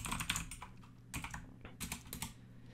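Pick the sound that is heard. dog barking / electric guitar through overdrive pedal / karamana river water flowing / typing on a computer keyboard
typing on a computer keyboard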